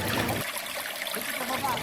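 The Palakol River in Florida Blanca, Pampanga, flows over large rocks with a steady, close rush of water, and a voice speaks briefly at the start.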